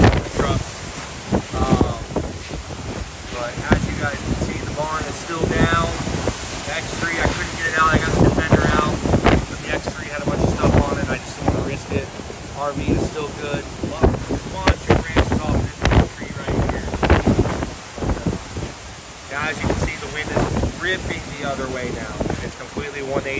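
Hurricane Milton's winds roar and gust continuously around a campsite near trees, heavy buffeting on the microphone with rushing surges and rattling debris throughout, loud and close with no clear break.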